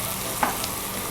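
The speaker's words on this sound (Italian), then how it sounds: "Guardate come deve sfrigolare, come deve praticamente friggere il peperone." Bell pepper frying in olive oil in a pan for spaghetti aglio, olio e peperone, a steady close sizzle with a brief stirring clatter partway through, no voices.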